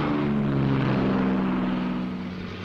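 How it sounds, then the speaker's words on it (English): P-38 fighter planes with twin propeller engines drone steadily as they get underway at an airbase, a loud sustained engine roar with a humming tone that fades slightly at the end. "the P-38s get underway"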